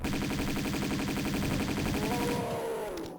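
Rapid, evenly spaced gunshots from pistols in Tomb Raider 2 Remastered, a loud continuous burst that ends abruptly after about two seconds and gives way to a brief tonal game sound.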